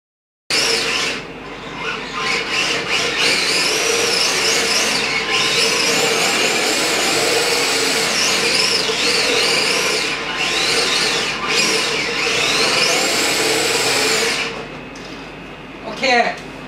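Kasemoto S01 belt-drive RC drift car driven and drifted, a continuous high whirring motor with rising and falling pitch sweeps as it slides, steady and close while someone talks throughout.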